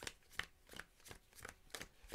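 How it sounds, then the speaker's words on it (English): A deck of playing cards being shuffled during a tabletop card game, heard as a run of about seven quick, crisp riffles in steady rhythm, close and quiet. "Do a quick shuffle of my cards."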